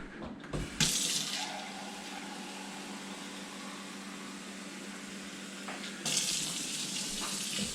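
Tap water pours steadily into the water reservoir of a coffee machine from a cup, a continuous splashing flow with a brighter burst at the start and again near the end.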